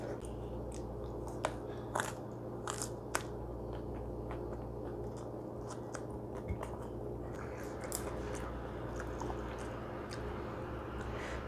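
Crisp bites and steady chewing of crunchy fried salted fish, eaten close up, with scattered crackly snaps over a continuous low background hum.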